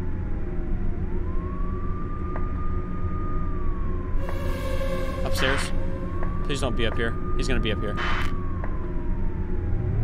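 Emergency sirens wail in a long rising and falling sweep within the Cold Call video game, moderately loud beneath a continuous game rumble while someone talks urgently over them.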